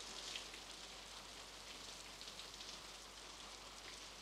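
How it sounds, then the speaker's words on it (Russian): Steady rain pattering on a surface, soft and even throughout, with no speech. "Дождь идет."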